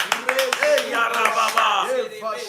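A church congregation claps during worship. Rhythmic, fairly close handclaps ring out under loud voices singing or chanting.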